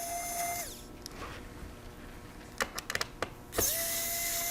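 Screws being backed out of the underside of an HP 15.6-inch laptop with a small powered driver, a steady whirring run, a pause, then a cluster of short clicks and clatter before the whirring starts again, close up and with no talk.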